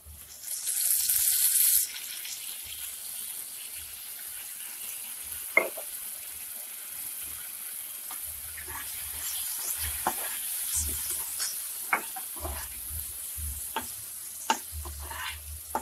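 A pan of vegetable Manchurian stir-fries with a soft, even sizzle after soy sauce goes in, punctuated by occasional clinks and scrapes of a stirring utensil, moderately quiet and without talk.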